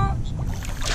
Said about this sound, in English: It's our trolling motor.